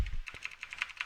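Quick keystrokes on a computer keyboard as a name is typed, a short run of light, evenly spaced clicks close up with no talking.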